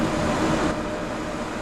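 ICE-1 high-speed intercity express train running in Train Sim World 3, a brief steady rumbling roar of rail travel, loud and continuous with no voices.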